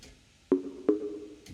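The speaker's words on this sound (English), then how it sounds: "The tight, punchy, minimal house sound." Two short, soft, round sine bass notes in a tight minimal house style thump one after the other, fairly quiet and clipped, with little tail.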